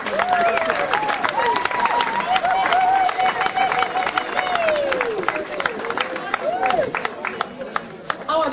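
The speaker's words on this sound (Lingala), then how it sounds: "Vos applaudissements, s'il vous plaît." A crowd applauds the Cape Town delegation at a Congolese PPRD supporters' gathering in South Africa, with sustained clapping and cheering under loud chatter and singing voices throughout.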